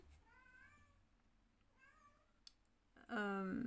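Cats squabbling: faint, distant meows and wavering cries at first, then a sudden loud, close yowl near the end, over a low background hum.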